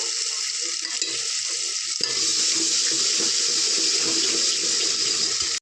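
Hot oil sizzling steadily, then lentil cooking water poured into the pan with a sudden rise into a louder, continuous hissing bubble.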